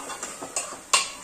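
A spoon stirring an eggplant and potato mix into hot tempering in a pot, a few quick scraping clinks against the metal with the last one loudest.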